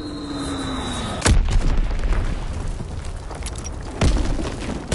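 Two heavy booms land roughly three seconds apart in a console war game's bombing run, each a sharp broadband blast with a low rumble trailing off over steady battlefield ambience.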